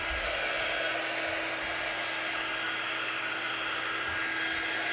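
A hair dryer runs continuously, drying a wooden pine reindeer craft, giving a steady close whirring blow with a constant hum and no talk.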